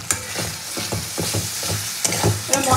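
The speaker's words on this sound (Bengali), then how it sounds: "এবার মশলাকে খুব ভালো করে কষিয়ে দেবো" Spices with turmeric powder and a little sugar sizzle and fry in a pan, with steady loud crackling and repeated stirring scrapes throughout, no talking.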